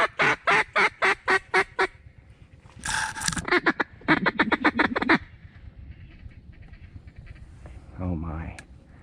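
A flock of about 60 mallard ducks quacks in rapid, evenly spaced bursts, with a close, loud run of calls at the start and another burst a few seconds later, then a lower, softer call near the end.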